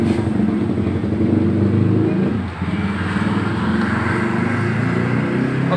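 An automatic scooter with a power-loss fault revs steadily up close as the throttle is opened, its engine drone loud and continuous, with a brief dip midway before the revs hold again.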